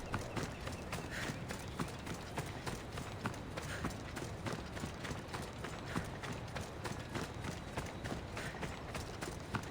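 Horse hooves clip-clop at a steady trotting rhythm in the video game Fields of Elysium, with evenly spaced, close, sharp footfalls running throughout over a dense, constant background.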